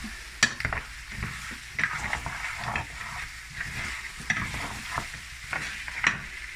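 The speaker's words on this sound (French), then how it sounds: "il faut laisser revenir quelques minutes la pâte de tomate dans l'huile" Tomato paste frying in oil for a pig's feet stew, a soft sizzle broken by scraping stirs and occasional clinks of a utensil against the pot, close and fairly quiet, with no talking.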